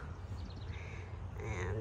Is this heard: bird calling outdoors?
yes